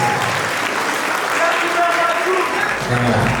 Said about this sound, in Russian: Аплодисменты, аплодисменты,